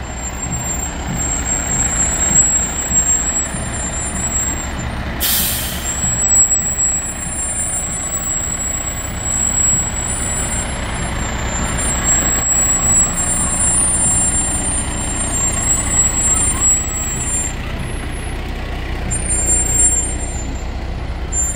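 A fire department tower ladder truck at a parade idles with a deep, steady engine rumble, and one sharp burst of air-brake hiss cuts through partway, all heard up close without talk.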